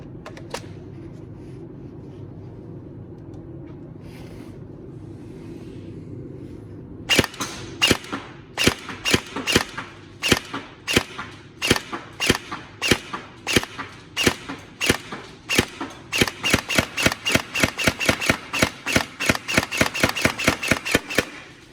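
A Tokyo Marui SGR12 airsoft shotgun with an AES trigger unit, fired from a remote switch, gives a string of sharp, loud mechanical cracks, first spaced single shots and then a faster rapid burst, over a low steady hum.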